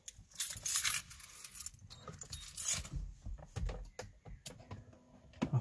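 A bunch of keys jangles and clinks in bursts close by, with rustling handling noise and light metallic taps in between.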